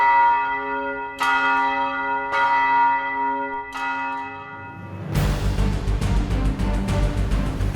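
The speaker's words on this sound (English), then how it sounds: "as the bells tolled in the darkness." Church bells toll slowly, three ringing strikes with long decays, then a louder burst of clanging bells pealing together.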